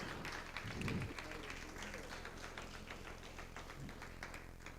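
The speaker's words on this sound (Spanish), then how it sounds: "Denle un aplauso al Señor en esta noche." A church congregation applauds, a soft, diffuse patter of clapping that runs steadily under a low room murmur and a voice.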